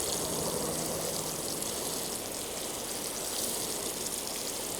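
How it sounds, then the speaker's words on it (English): Water pouring steadily onto a newly planted garden bed to settle the soil, a continuous close splashing hiss with no pauses. "water it in really well so that the soil settles"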